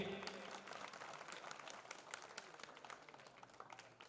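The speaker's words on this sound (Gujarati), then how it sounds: "તાળીઓના ગડગડાટથી વધાવીએ." An audience claps at a temple idol-consecration ceremony, a dense burst of applause that gradually thins out over a few seconds.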